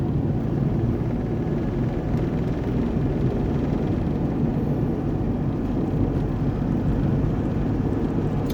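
An old camper van's engine drones steadily while driving, heard from inside the cab as a continuous low rumble, running but struggling to hold power.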